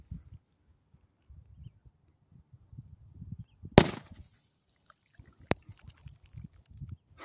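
An M80 firecracker goes off buried in sand at about the four-second mark: one sharp, loud blast with a short crumbling tail, followed by a faint later crack and low rustling outdoors.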